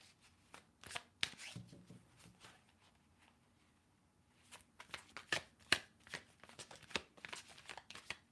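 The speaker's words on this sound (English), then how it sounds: "But let me keep shuffling here." Tarot cards being shuffled by hand in a series of crisp riffles and soft slides, with bursts of sharp card flutters separated by brief quieter pauses.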